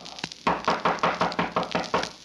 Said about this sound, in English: 20 minutes later, there was a knock on the door.